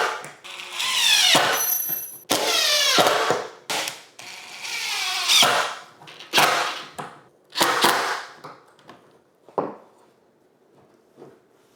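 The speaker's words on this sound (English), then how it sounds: "I can't get the drill into this corner, so I'm using this right angle adapter" A power drill with a right-angle adapter drives screws into a DIY Murphy wall bed frame, giving several loud whirring bursts of a few seconds each, then shorter, fainter spurts with mechanical clicking.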